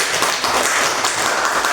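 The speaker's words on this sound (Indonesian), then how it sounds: "Kasih dulu tepuk tangan." Classroom applause from primary school pupils: a dense, steady patter of many hands clapping together throughout, fairly loud and close, with no talking over it.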